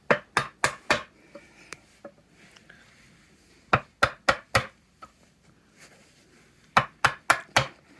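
A wood chisel chops out the waste from a breadboard end notch, making sharp, close knocks in quick clusters of four or five blows separated by short pauses, with no talking.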